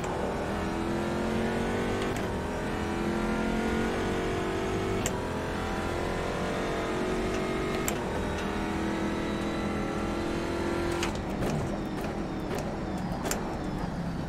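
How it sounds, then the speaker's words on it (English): A race car engine revs and accelerates around the Sebring circuit in the rFactor 2 racing game, loud and continuous, its pitch rising and falling through gear changes, with a few sharp clicks near the end. "a little too hard on the gas"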